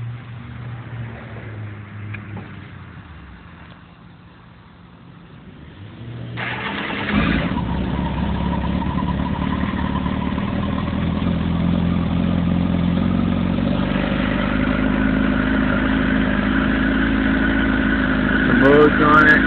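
A 2007 Kawasaki ZX-10R motorcycle cold-starts about midway through, the engine catching with a sudden burst and then settling into a steady, loud, close idle. Quieter background sound comes before the start.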